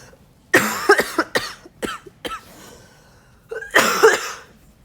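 Several sharp coughs with throat clearing in two bursts, close and loud, with a quieter cough between them, produced by a person during a maths lesson.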